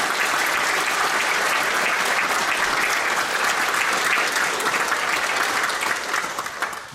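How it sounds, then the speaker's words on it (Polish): Sustained audience applause at a 25th-anniversary celebration of a regional folk association, honouring a folk poet; dense, steady clapping from a large crowd fills the whole stretch, loud and even before tapering slightly at the end. "Wielkie brawa dla Pani Małgorzaty."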